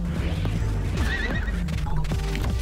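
A horse whinnies in the video game Pizza Tower, a bright wavering neigh over busy game music and clip-clop hoofbeats, loud and close.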